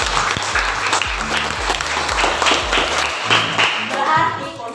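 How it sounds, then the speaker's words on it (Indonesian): Students in a classroom clap their hands together in a brisk, rhythmic group applause, sharp repeated claps over a low rhythmic background. "kita tepuk tangan dulu"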